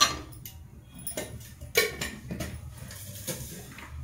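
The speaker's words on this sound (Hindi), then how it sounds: "गैस ऑन कर देते हैं और कढ़ाई रख देते हैं।" A kadhai being set down on a gas stove, then a spoonful of desi ghee added, as sharp metallic clinks and taps ring out sporadically and close by, with no talking.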